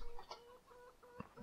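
Chickens on a hen farm in the game Landwirtschafts-Simulator 15 (Farming Simulator 15), giving a few short, fairly quiet clucks in quick succession.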